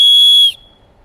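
A cheap plastic whistle gives one loud, shrill, steady blast of about half a second, close up, then cuts off into near silence.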